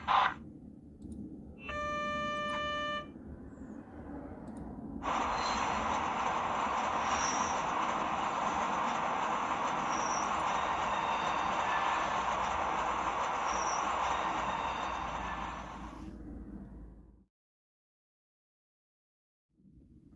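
Märklin V60 H0 scale model diesel locomotive running with five wagons: a short electronic horn-like tone, then a steady whirring, rumbling motor and wheel noise on track for about twelve seconds before it stops abruptly.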